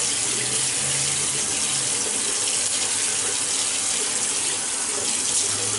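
Tap water running steadily into a sink while the face is wetted before a shave, a constant close hiss and splash with no talk.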